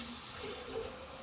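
Tap water pours steadily into a shaker bottle, a soft continuous rushing splash at low level with no break, heard alone without talk.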